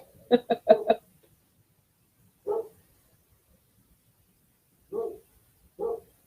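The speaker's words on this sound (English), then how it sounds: "Of course, our dogs decided to bark now." Household dogs barking indoors, a quick burst of four sharp barks followed by three single barks spaced a second or two apart, loud and close with quiet between.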